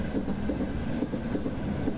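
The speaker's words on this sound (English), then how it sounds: "let's go up and have a look at this train engine here" Train engine heard from outside during a drone flyover, a steady low rolling rumble with faint rhythmic clatter, continuous and fairly loud across the whole stretch, no voices.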